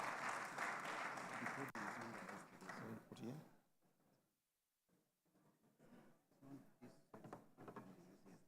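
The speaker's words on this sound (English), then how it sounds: "Can we have another round of applause for CSP Ogwada for the security tips?" A conference audience gives a round of applause: dense, fairly faint clapping for about three seconds that fades away, followed by scattered quiet sounds and talking.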